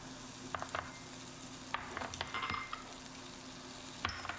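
Green beans fry in a little oil with a steady sizzle and occasional clicks and scrapes of a utensil stirring the pan, with no voices.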